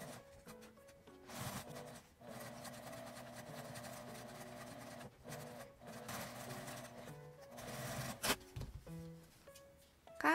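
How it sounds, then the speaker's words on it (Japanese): A sewing machine stitches a straight seam with a 1 cm allowance through two layers of fabric placed right sides together, for a small accordion card case. It runs as a steady close mechanical whir with brief pauses and restarts, and no one speaks. "返し口を開けて1センチの縫い代で縫います。"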